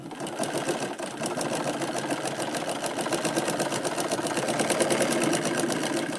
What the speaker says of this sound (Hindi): तो देखिए यहाँ पे हम निशान पे सिलाई लगाएंगे।